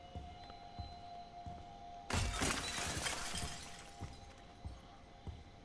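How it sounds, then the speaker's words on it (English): Loud crash of objects being smashed in the horror game Friday the 13th: The Game, a sudden shattering burst followed by several scattered thuds and knocks. "I'm just smashing things because I'm angry."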